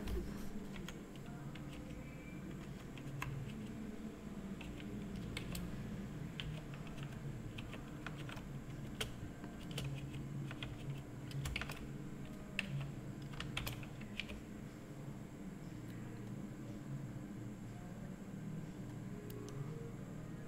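Close typing on a computer keyboard, irregular clusters of quick key clicks over a low background hum, with no one speaking.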